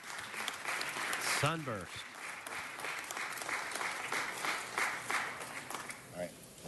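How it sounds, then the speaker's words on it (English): An audience applauds in a loud, dense burst of clapping that lasts throughout, with a voice speaking over it now and then. "let's give them all another round of applause"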